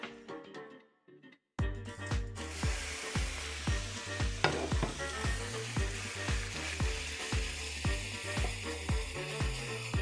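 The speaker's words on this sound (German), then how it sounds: "Und dann wollen wir das ein bisschen anbraten lassen" Meat for Philly cheesesteak sizzles loudly in a hot oiled pan after a brief quiet start, with a repeated scraping rhythm as it is stirred, close up.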